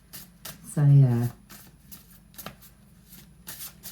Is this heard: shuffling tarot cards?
yes